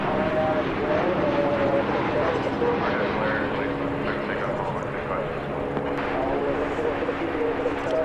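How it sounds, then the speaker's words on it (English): An American Airlines jetliner touching down at DFW from Kansas City, a continuous engine roar with steady droning tones, fairly loud throughout and heard alone without talk. "An American Airlines Jetliner touching down from Kansas City."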